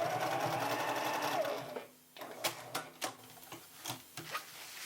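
A sewing machine stitches down quilt binding, running in a steady close whir that pauses briefly, then resumes in short bursts of stitching.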